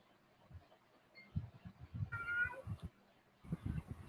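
A house cat meows in a drawn-out cry at moderate volume, standing out over a low background of thumps and movement noise, with no talking.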